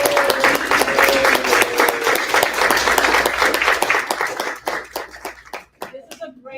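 Enthusiastic applause at a success rally, many hands clapping loudly with cheering voices, thinning into scattered individual claps toward the end.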